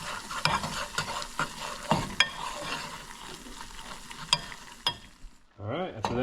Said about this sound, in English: And we'll stir this up and add it to our soup